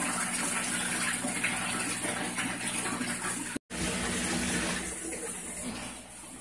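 Water gushing steadily into a fish tank during an aquarium water change for Blue Texas cichlids, a continuous broadband pour with one brief cut partway through.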